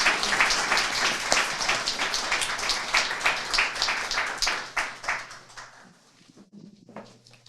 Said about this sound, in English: Please give a big round of applause once again